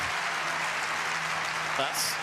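Crowd applause and cheering fill a professional pickleball championship match, a steady broadband roar sustained throughout at close, loud level with no individual voices standing out.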